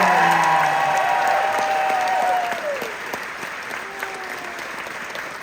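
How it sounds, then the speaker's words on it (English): Audience applause at a concert greeting guitarist Kirk, loud and dense at first, with a few whistles and cheers rising over it before the clapping thins and fades toward the end. "A huge round of applause for my friend Kirk."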